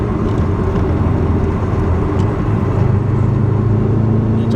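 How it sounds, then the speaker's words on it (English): A 2005 Subaru Forester STI boxer engine with an aftermarket back box accelerates, giving a steady low burbling exhaust drone heard close and continuous, with no talk. "Yeah, you have to be able to hear the Subaru burble."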